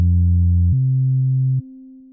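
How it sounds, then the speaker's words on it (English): A synthesized saw wave is low-pass filtered in a synth plugin, its buzzy tone steadily losing brightness until it settles into a smooth, pure sine tone. The sustained pitched notes step through a few levels with no voices. "Watch as I low pass filter this saw wave. As harmonics are removed, you can see it turning into a smooth sine wave."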